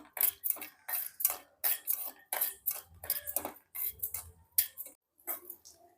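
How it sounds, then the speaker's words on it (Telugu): Cashew nuts being fried in a pan, heard as a quick run of sharp metallic clinks and scrapes of a spoon against the pan, about a dozen close taps in irregular rhythm. "జీడిపప్పు అండి, దోరగా ఫ్రై చేసుకోవాలి."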